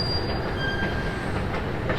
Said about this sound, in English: Can you imagine how underground this train is?